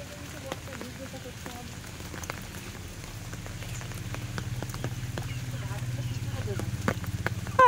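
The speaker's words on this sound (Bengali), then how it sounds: "বর্ষায় ভিজে ভিজে করতে হয় সব" Monsoon rain patters steadily on surfaces nearby, a continuous hiss with scattered sharper drips and taps, growing slightly heavier toward the end.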